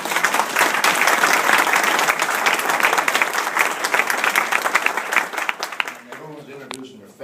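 An audience applauds pioneering girls' athletics coaches at a hall of fame event, sustained dense clapping filling the room before it thins out and a voice starts speaking at the end.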